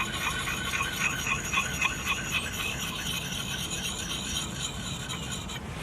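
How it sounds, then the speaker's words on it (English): Repeated rasping strokes of a file or stone sharpening the blade edge of a Hultafors Agdor 17-inch bushcraft axe, a steady close scraping rhythm over about six seconds with no talking. "And just sharpen it that way, turning the axe over, and just repeating the process just on the other side."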